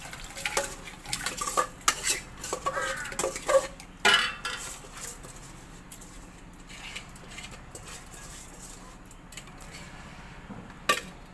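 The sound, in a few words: stirring sweets in a pot while cooking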